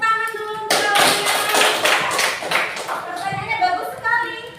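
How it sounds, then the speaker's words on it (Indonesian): A classroom breaks into applause for a student's question, a burst of many hands clapping close by that fades within a few seconds, framed by a teacher's voice. "tepuk tangan dulu untuk kawannya"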